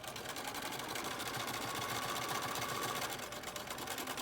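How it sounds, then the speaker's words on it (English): A sewing machine stitching elastic onto a fabric mask, a steady fast mechanical whirr with rapid rhythmic needle clatter that runs continuously and close by. "I have that particular feature on this sewing machine, and I'm going to stitch"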